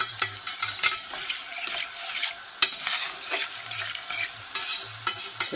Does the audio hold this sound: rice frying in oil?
yes